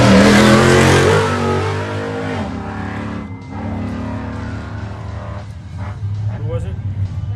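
A 4400-class off-road race car in desert qualifying roars loudly close by, engine revving and fading as it passes, with commentators talking over it.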